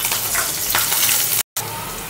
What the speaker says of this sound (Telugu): ఇప్పుడు ఉల్లిపాయలు, పచ్చిమిరపకాయలు వేయించుకోవాలి.